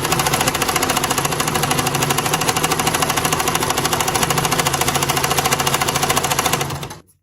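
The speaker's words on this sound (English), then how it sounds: "We are now going to see the fault the machine has when sewing when the needle bar timing is completely out of adjustment." A Singer sewing machine running with its needle bar timing completely out of adjustment, a loud, steady rapid mechanical clatter and hum close by that continues without a break before stopping abruptly at the end.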